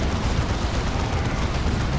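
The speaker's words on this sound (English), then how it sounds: "Melter Bombs chucked in." Melta bombs detonate against a tank in the video game Warhammer 40,000: Dawn of War 2 during a 3v3 battle against a Chaos invasion. A loud, unbroken rumble of explosions and gunfire rolls on steadily throughout.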